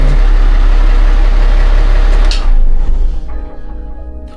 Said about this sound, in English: you could definitely hear a change in engine tone when I crack the injectors off